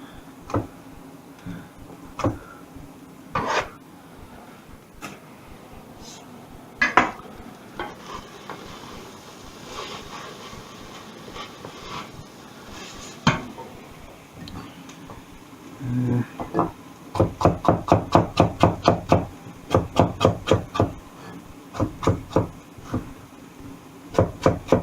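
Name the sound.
knife slicing carrots thinly on a wooden chopping board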